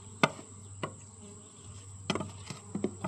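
Honey bees buzz faintly around an open hive, a soft hum broken by a few sharp clicks and knocks, close and quiet, with no voices.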